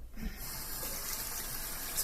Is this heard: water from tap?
yes